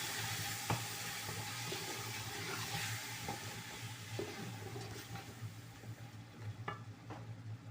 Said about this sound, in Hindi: ये अब मैं पेस्ट डालने लगी हूँ मसाला बढ़ाने के लिए